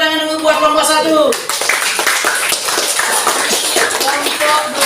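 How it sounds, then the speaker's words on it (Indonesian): A classroom breaks into applause for a group, a dense burst of clapping from many hands after a moment of voices, steady and close for several seconds. "Tepuk tangan dulu buat kelompok 1."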